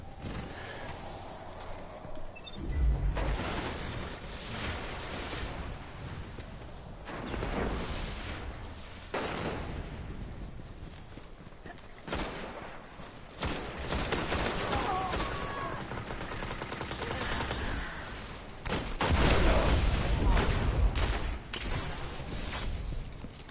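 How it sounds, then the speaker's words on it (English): Grenades and gunfire in the Destiny video game's Crucible multiplayer match, with repeated bursts of shots and heavy booming blasts going off close by, several explosions over a steady backdrop of combat noise. "Ah, attachable grenades."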